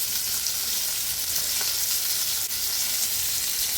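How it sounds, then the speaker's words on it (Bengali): Fish frying in a hot pan gives a steady, close sizzle that crackles evenly throughout, with no voices. "তো মাছ ভাজা হচ্ছে"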